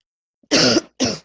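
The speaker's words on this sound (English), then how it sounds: "I have a cold today, so I'm coughing." Two harsh, loud coughs from a man with a cold, a longer burst followed after a short gap by a second, close to the microphone with no talk over them.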